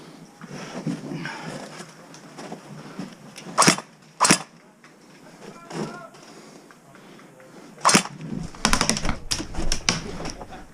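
Airsoft guns fire during a close-quarters game, several sharp cracks scattered through the clip and a quick burst of rapid shots near the end, with players talking throughout.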